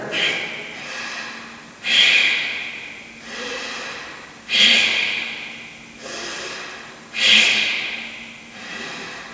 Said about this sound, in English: Right, breathe out slowly now.